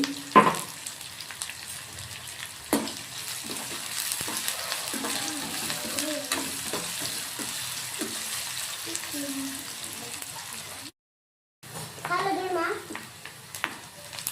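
Onions frying with salt in a pan give off a steady sizzle broken by occasional stirring clatter, heard under intermittent talking and a brief dropout near the end.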